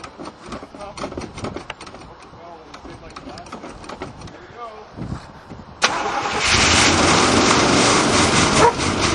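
A 1984 Chevrolet Camaro with a 305 engine, run on stale gas after five years of sitting, cranks with uneven starter whirring amid voices and a dog barking, then suddenly catches and roars into a loud, steady idle.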